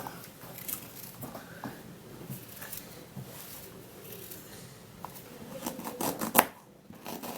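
A knife slices through ginger with soft, irregular crunchy cuts and scrapes, close and quiet, ending in a sharper tap followed by a brief near-silence.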